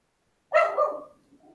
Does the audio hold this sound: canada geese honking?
no